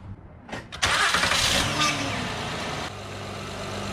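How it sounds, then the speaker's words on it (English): A 2010 Honda Odyssey engine cranks briefly and then catches, settling into a steady, close idle. "let's go crank it up to see if I have charging"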